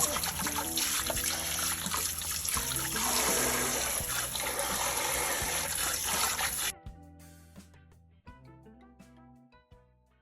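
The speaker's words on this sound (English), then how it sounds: "give that a good rinse in some cold water until the water is no longer as cloudy" Raw chicken legs are rinsed under cold running tap water, a steady loud splashing that stops abruptly at about two thirds of the way through. A few scattered drips and small wet clatters follow in the quiet.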